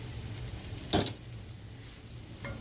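Chopped garlic is stirred into softened peppers in a pan for succotash: a low sizzle, one sharp utensil clink against the pan, then quiet frying.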